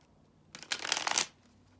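Tarot cards shuffled at a reading, a short brisk riffle of about three-quarters of a second rising out of quiet, close and fairly soft, with no voices.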